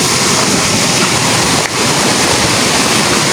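Kabigan Falls waterfall roars with a steady, loud broadband rush of falling water close by, continuous and unbroken except for one tiny dip midway, with no voices over it.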